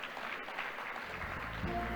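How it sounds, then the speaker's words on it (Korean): Audience applause at an award ceremony for a children's drawing contest exhibition opening, a steady wash of clapping from a gathered crowd, moderately distant and continuous, with a low hum entering partway through. "다시 한번 축하의 박수 부탁드립니다."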